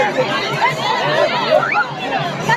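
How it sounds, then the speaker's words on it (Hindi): Dense crowd chatter and babble fill a night-time Shiva-Parvati wedding chariot procession in Madurai, Tamil Nadu, a steady close hubbub of many voices with occasional louder calls. "इतनी भीड़ है, आप सोचिए, इतनी भीड़ है"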